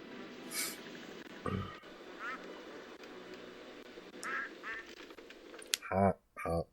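A cartoonish duck quacks in the MS-DOS game Wishbone and the Amazing Odyssey, a few short nasal quacks among game sounds while a person talks over them.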